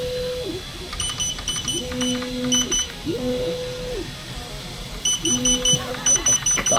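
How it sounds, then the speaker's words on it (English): A laser engraver gives off repeated electronic beeps in short bursts of tones, the bursts coming back steadily and loudly over a constant hum, with a person talking in between. "Is there a way to turn the beeping off?"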